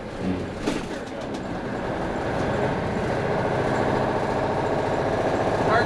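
A Kenworth truck engine with new exhaust stacks drones and rumbles steadily as the driver double-clutches and shifts gears, the engine note rising in a continuous, loud cab-interior roar.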